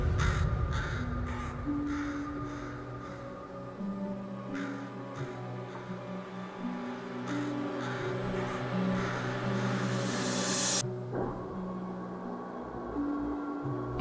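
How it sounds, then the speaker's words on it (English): Crows caw repeatedly outdoors, harsh calls spaced through a steady ambient background, fairly faint and distant, with no talk. "the Crow, an unclean and hateful bird"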